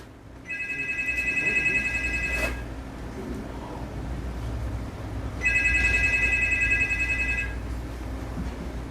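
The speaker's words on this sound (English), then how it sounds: "there's a phone ringing where I am" A telephone rings in a room in two long electronic bursts separated by a few seconds of quiet, loud and close over a low steady hum.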